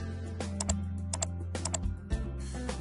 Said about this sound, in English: on your keyboard hit Control or Command E